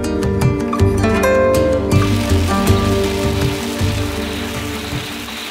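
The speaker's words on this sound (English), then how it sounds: "the rain is torrential" Torrential rain pours down in a town inside the Arctic Circle, a loud, dense and constant hiss and patter of heavy drops hitting surfaces close by.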